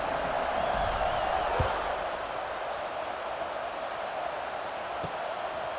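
Steady stadium crowd buzz at an NCAA 26 college football video game, Oregon versus Michigan, a continuous broad roar that holds evenly throughout with a faint whoop or two.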